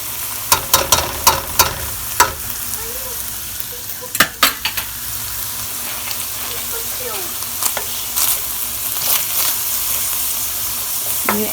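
Onions fry in a pan, nearly browned, with a steady crackling sizzle broken by sharp clacks of a utensil against the pan, close and moderately loud.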